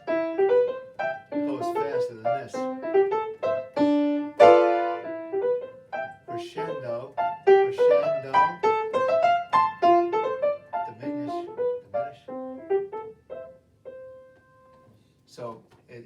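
Solo piano playing the Simple Gifts scherzo, a lively run of short phrases that starts moderately loud, swells, then thins out to sparse quiet notes at the end, with no talking.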